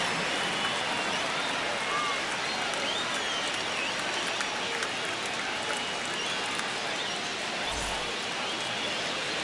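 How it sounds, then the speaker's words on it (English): Stadium crowd in the baseball video game The Show 25 gives a dense, continuous roar of cheering and applause, broad and steady throughout with no clear breaks. "The crowd is amped up, ready to get this season underway"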